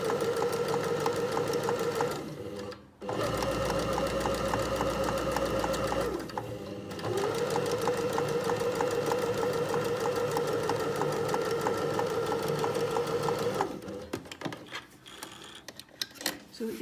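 A sewing machine stitches around a curved fabric hem in long steady runs, its rapid rhythmic whir pausing briefly twice before trailing off, with a voice talking faintly underneath.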